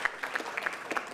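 An audience claps at a ribbon cutting ceremony for a riverfront building, a brief patter of scattered hand claps from a modest crowd, moderately distant and fairly soft.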